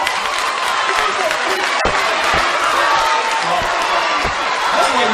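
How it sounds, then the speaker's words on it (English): Audience at a live question-and-answer event claps and shouts in a sustained, dense roar, with crowd noise filling the whole stretch at steady loudness. "What are you applauding?"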